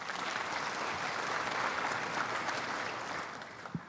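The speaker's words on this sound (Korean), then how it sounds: "여기 DGM에 박수를 한번 보내겠습니다." Audience applause at a university innovation festival in Daegu, a steady, full round of clapping from a crowd that tapers off near the end.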